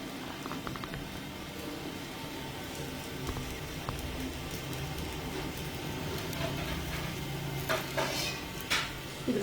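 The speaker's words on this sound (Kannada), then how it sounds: "ಇದ್ರ ಮೇಲೆ ಲಿಡ್ ಕ್ಲೋಸ್ ಮಾಡಿಕೊಂಡು ಒಂದೆರಡು ನಿಮಿಷ ಫ್ರೈ ಮಾಡ್ಕೊಬೇಕು" Vegetables frying in a pan give a constant close sizzle and crackle, with occasional stirring clinks and scrapes rising toward the end.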